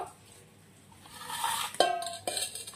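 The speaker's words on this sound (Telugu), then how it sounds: "కొబ్బరి తురుము, చక్కెర మిక్సింగ్ చేసుకోవాలి" Grated coconut and sugar being mixed in a bowl for coconut biscuits, a soft scraping stir that builds up, broken by two sharp clinks of a utensil against the bowl.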